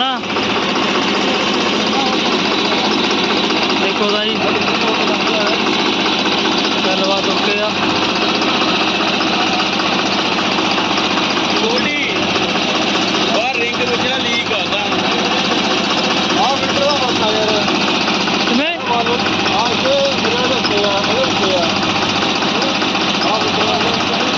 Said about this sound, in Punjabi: ਟਰੈਕਟਰ ਹੋ ਗਿਆ ਆਪਣਾ ਸਟਾਰਟ